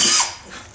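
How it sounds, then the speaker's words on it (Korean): Power drill with a boring bit in wood, its clutch slipping at torque setting 8, gives a brief sharp ratcheting burst that fades out within a second. "지금 그 소리가 토르크가 작동하는 소리예요."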